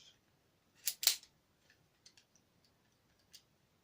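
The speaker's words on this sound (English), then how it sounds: "Mag comes out." Magazine removed from a Browning pistol, heard as two sharp metallic clicks close together, then a few faint small ticks in a quiet room.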